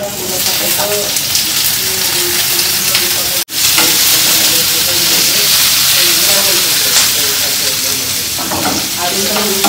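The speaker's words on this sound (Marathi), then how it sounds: "जिरं थोडासा परतला की कांदा थोडा टाकून" Onion fries with cumin in oil for egg fried rice, a loud close sizzle broken by a brief cut. Stirring clatter runs throughout, and faint voice-like tones sit underneath.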